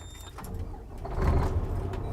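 A Renegade motorhome on a Freightliner Columbia chassis cranks and its engine catches, a low rumble building and settling into a steady idle heard from nearby.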